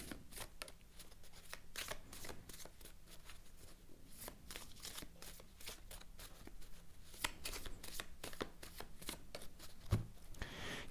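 Tarot cards are shuffled close by, a soft, continuous flutter of riffling and slapping cards with irregular sharp snaps, quiet and without talk.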